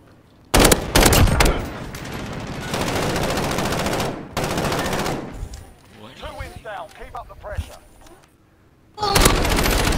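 Automatic and single-shot gunfire in Call of Duty: Modern Warfare (2019), loud bursts of rapid shots up close, a lull with scattered softer sounds and voices, then a final heavy burst.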